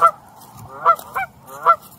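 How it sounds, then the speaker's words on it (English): Canada geese on a wetland nature trail give several loud, nasal honks, three or four calls spaced irregularly over about two seconds, fairly close, with no talking. "Couple Canadian geese."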